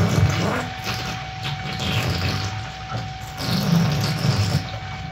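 A 2,000 gallon per hour 12-volt bilge pump pumps water through a two-inch suction nozzle on a gold dredge, giving a steady splashing, gushing water rush with a low churning undertone that swells and eases a little throughout.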